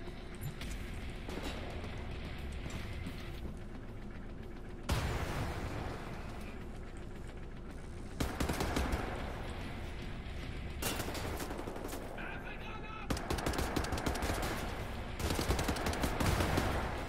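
Gunfire in the video game Wolfenstein, rapid bursts of shots in several loud volleys separated by quieter stretches, sounding fairly close.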